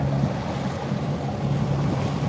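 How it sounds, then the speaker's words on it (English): A tour boat in Halifax Harbour motors through small ferry-wake waves, with a steady engine drone, water slapping against the hull and wind buffeting the microphone, with no one talking. "It's got a couple little waves coming in here, guys, nothing major. Just from the ferry."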